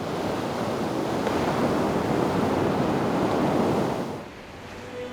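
Sea waves break and wash steadily onto a winter beach, a continuous loud surf roar that fades and drops sharply near the end.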